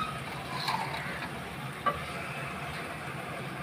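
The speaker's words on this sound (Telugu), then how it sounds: "ఈ విధంగా ఆయిల్ పైకి తేలే వరకు ఆయిల్లో పేస్ట్ని వేయించాలి" Masala paste frying in oil for a sora chepa (shark fish) pittu dish, a soft steady sizzle and crackle with a brief stir around the middle.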